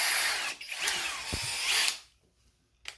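A Skil cordless drill driver whirs loudly, revving up and winding down with a brief pause, then spins in the opposite direction before cutting off into near silence with a short final burst.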